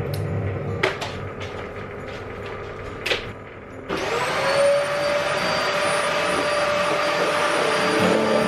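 A vacuum cleaner hoovers indoors, its steady motor roar switching on partway through and running loud and continuous after a few knocks and bumps.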